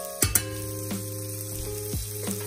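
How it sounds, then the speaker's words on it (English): Chopped onion and jalapeno fry in a skillet preheated over medium heat, giving a soft sizzle under a steady tonal hum, with a couple of sharp clinks at the start. "We're going to add in our chopped onion and our jalapeno."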